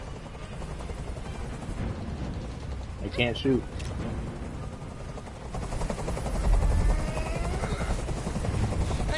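A helicopter in the video game Detroit: Become Human drones with steady rotor chop, loud and close, while a character briefly speaks over it.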